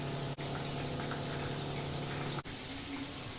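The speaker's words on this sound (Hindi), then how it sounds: "अब मीडियम फ्लेम में ही चिकन को फ्राई करना है।" Chicken pieces for dry chilli chicken fry in hot oil over a medium flame, giving a dense, steady sizzle that fills the clip with only brief dips.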